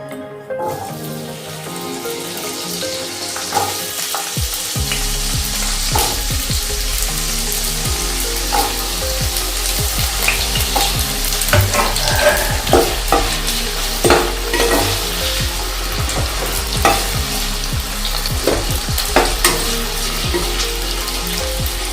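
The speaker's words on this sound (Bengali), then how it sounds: "এর মধ্যে আমি এবার আলু ভেজে নেব।" Potatoes fry loudly in ghee for navratan pulao, a dense, continuous sizzle with frequent stirring scrapes and clatter of a spoon in the pan, and no voices throughout.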